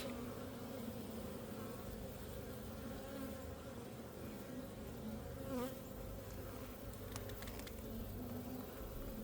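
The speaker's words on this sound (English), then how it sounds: "definitely got these bees stirred up" Loud, dense buzzing of many honeybees stirred up from an opened hive during inspection, close by, a constant agitated drone throughout with a brief higher whine midway.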